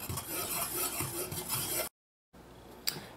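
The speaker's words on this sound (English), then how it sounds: "Give the dry ingredients a mix." A spoon stirs dry flour, salt, yeast and baking powder together in a bowl for naan, a steady close scraping and rubbing that breaks off into silence before a short softer scrape.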